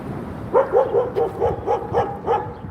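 A dog barks repeatedly in a steady rhythm, about eight short, clear barks at moderate distance over low background noise.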